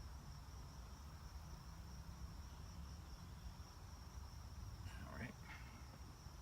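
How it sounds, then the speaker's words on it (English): Crickets and other insects chirp steadily outdoors at Valley Forge, Pennsylvania, a continuous high-pitched drone under faint background noise, with a brief spoken remark near the end. "And the bugs are really waking up now."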